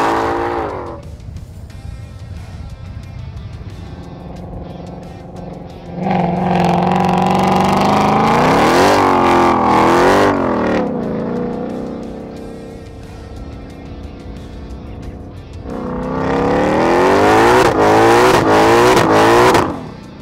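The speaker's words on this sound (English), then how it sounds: "we have modified the exhaust with an MBRP X pipe, and the car is much louder than OEM" A 2020 Ford Mustang Shelby GT500 with an MBRP X-pipe exhaust idles with a low rumble, then revs loudly twice with rising and falling engine pitch, close by, with no talk.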